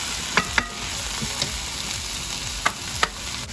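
Chicken and zucchini stir-fry in a hot pan with a steady close sizzle, a few sharp clacks of a utensil against the pan breaking through, with no talking.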